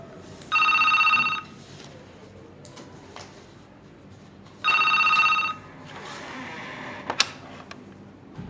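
An office telephone rings in two distinct bursts, each lasting close to a second and separated by a few seconds of quiet room tone. The rings are clear and fairly loud, with no talk over them.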